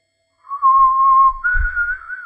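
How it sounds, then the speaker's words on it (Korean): Loud, clear whistling by a person on an outing up a mountain: a steady held tone that steps up to a higher pitch partway through, with faint low rumble beneath and no talking. "휘파람을 불었어요. 휘파람을 불고 말아요."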